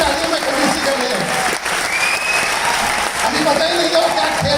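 An audience breaks into sustained applause, a dense wash of clapping with some crowd noise, while a voice keeps talking over it.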